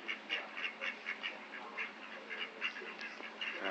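Ducks quacking repeatedly in a steady, busy chorus of short calls at moderate distance outdoors, with no talking.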